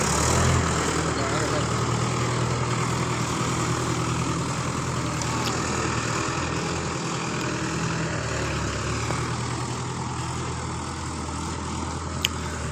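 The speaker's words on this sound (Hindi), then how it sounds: "देखो ट्रैक्टर चल रहा है" A Mahindra 475 DI tractor engine runs steadily outdoors on a farm, a continuous low diesel drone at moderate distance, with wind and faint background noise.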